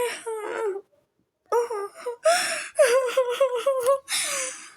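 A girl wails and sobs in loud, pitched, broken bursts close by, with one short silent pause and gasping, whimpering breaths between the cries.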